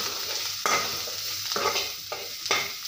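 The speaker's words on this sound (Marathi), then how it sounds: "तर कोथिंबीरीला छान असं मस्त परतून घेऊया।" Chopped coriander is stir-fried in a hot pan, a steady close sizzle broken by a few scraping stirs of the spatula, with no voices.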